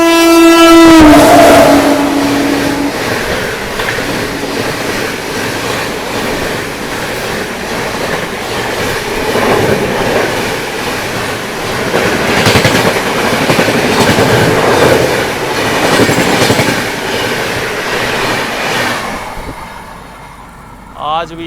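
The Howrah–Jabalpur Shaktipunj Express rolls past on the adjacent track, its horn sounding loudly at the start before a long, heavy rumble and clatter of wheels carries on and fades near the end.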